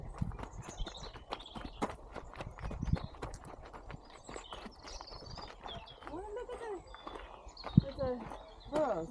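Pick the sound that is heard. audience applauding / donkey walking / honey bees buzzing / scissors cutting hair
donkey walking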